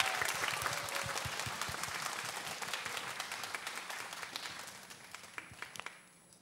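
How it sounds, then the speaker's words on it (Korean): Audience applause greets two musicians at an outdoor talk concert in Gapyeong, a fairly distant, dense patter of clapping that gradually thins into scattered last claps. "여러분 큰 박수로 환영을 부탁드리겠습니다."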